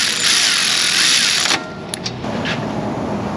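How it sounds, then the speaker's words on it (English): A power tool whirs loudly in an auto repair shop during brake work for about a second and a half, then stops, followed by a few short clicks and mechanical clatter. "We're gonna do power tools."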